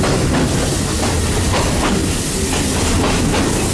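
Loud, continuous rumble and roar of a Thai train on the Nam Tok–Thonburi line running on its tracks, heard from inside, with a steady clatter and hiss filling the whole stretch.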